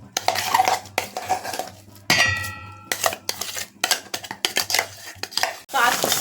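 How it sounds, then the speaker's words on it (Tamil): Ground paste being scraped from a grinder jar into a bowl, with repeated metallic clinks and clanks of utensils against dishes in bursts, close and fairly loud, with no talking. "அரைச்சதை இந்த பவுலில் மாற்றிக்கிறோம்."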